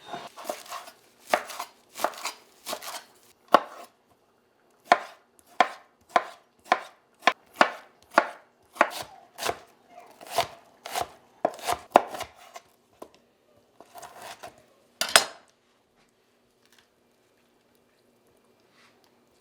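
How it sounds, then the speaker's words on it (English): Avocados, white onion, tomatoes and limes chopped with a knife on a cutting board, a run of sharp close chops in irregular bursts that ends in silence, with no talk. "So I'm just gonna chop all these up."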